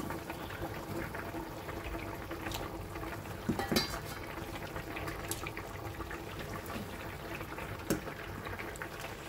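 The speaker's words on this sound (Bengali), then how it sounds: "ঝোলটা ফুটে গেছে" Fish curry broth boiling in a pan on a home gas stove, a steady low bubbling and simmering texture running throughout, with a couple of brief louder clinks or bumps partway through.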